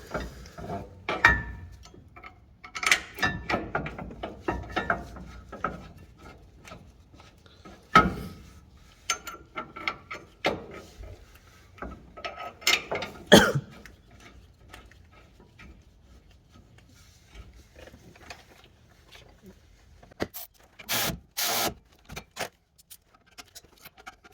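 Caliper bracket bolts on a Chevy Silverado being threaded in and tightened: sparse metallic clicks, ticks and clinks of tools and bolts, close and quiet, in irregular bursts with pauses and a brighter rattle near the end.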